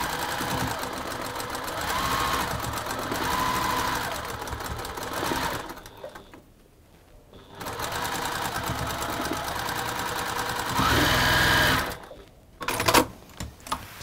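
A sewing machine stitching a Tilda embroidery flower quilt, its rapid mechanical whir running steadily in loud bursts with brief pauses and stop-start runs near the end, close up.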